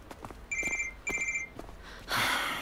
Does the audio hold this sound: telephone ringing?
yes